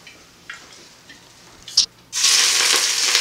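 Snowshoe hare pieces dropped into hot, lightly smoking olive oil in a ceramic Dutch oven at medium-high heat: a few soft clicks, then a sudden loud, steady sizzle filling the end.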